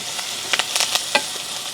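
Garlic, onion, green chilli and curry leaves stir-fried in a pan in a village kitchen: a short burst of soft sizzle with quick, light scrapes and taps of a spoon, close and without talk.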